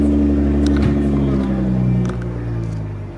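A 2019 Nissan GT-R's exhaust drones close and loud in a steady, deep tone that swells slightly, then eases off toward the end.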